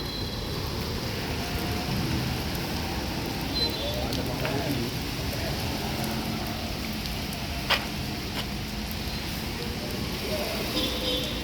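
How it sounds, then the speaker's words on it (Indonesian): Rain falls steadily as a constant wash of noise over a low rumbling background, with an occasional faint knock and muffled voices faintly present. "Cuaca kondisi lagi hujan."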